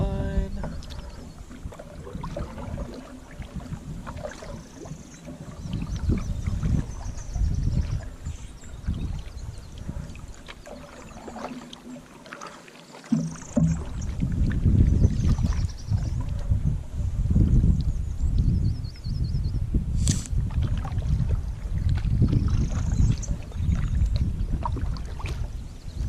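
Canoe paddling on a lake in the Boundary Waters wilderness, steady low water swishes and paddle strokes with light wind noise on the microphone, growing louder in the second half.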